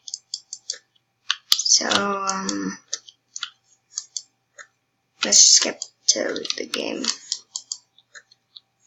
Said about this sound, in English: Sorry if you hear clicking and mouse, and if you hear keyboard and mouse.